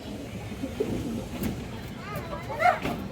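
A female pigeon coos softly with a brief rolling call near the end, partly under someone talking in the background.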